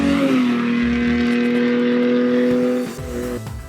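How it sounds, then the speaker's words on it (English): A small-displacement, multi-cylinder 1990s engine of 136 horsepower screams at high, steady revs to the redline for several seconds, then the pitch drops abruptly as it backs off. "the sound of a small displacement, multi-cylinder engine screaming to the red line"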